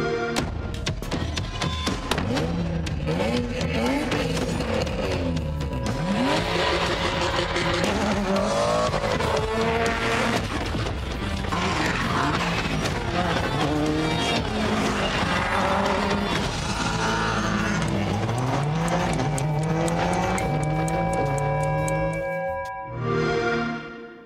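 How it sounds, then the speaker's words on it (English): A Peugeot 207 Super 2000 rally car driven hard in Forza Horizon 4, its engine loud and revving up and down through gear changes with tire squeal and skids throughout, ending in a short burst of noise. "The other reward car this series is a rally car."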